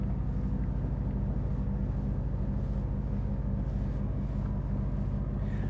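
4x4 being winched out of a muddy bog, a constant loud low engine drone with a thick rumbling hum and gusts of wind noise, steady throughout with no talk.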